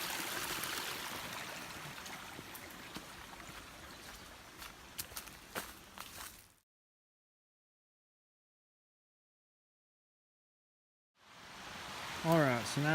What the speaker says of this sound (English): Streams coming from a couple of different directions,